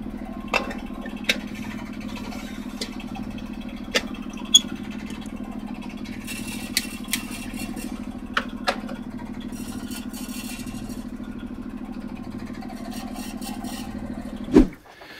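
A sailboat's inboard engine runs steadily at sea off Les Sables-d'Olonne, a constant low drone with a few faint clicks and knocks over it, ending in a sharp thump before it cuts off.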